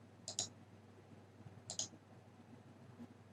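Two quiet, close mouse clicks, each a quick double tick, about a second and a half apart, over a low steady hum with no talking.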